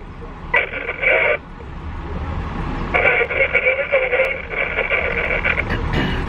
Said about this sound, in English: Listen to the radio.